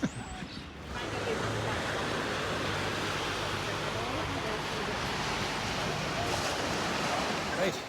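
Sea waves wash along the seafront at Whitley Bay as a steady, broad roar of surf with a windy hiss, continuous and fairly loud after a brief bump of handling noise at the start.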